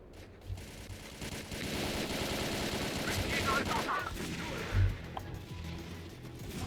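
Sniper gunfire in the game STALKER Call of Pripyat, fairly quiet shots with one heavier thump near the five-second mark, beneath dense game ambience and a player's voice.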